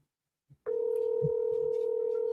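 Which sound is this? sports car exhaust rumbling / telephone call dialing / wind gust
telephone call dialing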